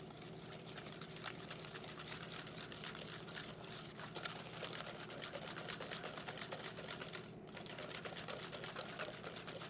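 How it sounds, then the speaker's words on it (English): Egg yolks and granulated sugar are whisked in a bowl, a fast, steady, even clatter of rapid strokes that carries on without a break at moderate, close volume. "To the yolks, I'm gonna add the sugar, granulated sugar, just like that. And I'm gonna blanch, so basically to whisk"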